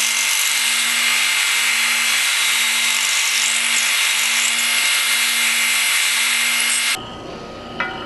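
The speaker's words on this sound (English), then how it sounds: "we're going to just come in here and use the sander here to kind of work on this profile" A power sander grinds a profile on a broken cast iron part of a Victor safe. A loud, continuous abrasive hiss with a steady hum lasts about seven seconds, then cuts off abruptly into near quiet.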